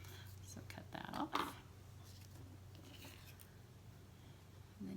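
Scissors snipping paper for a handmade Christmas card, a short quiet cut near the start, faint and close in a hushed room.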